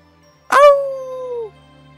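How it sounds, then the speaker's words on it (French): A dog in the game Tales of Symphonia gives a single short whimpering yelp that trails off into a drawn-out whine, clear and alone over a quiet background. "ici on a un chien"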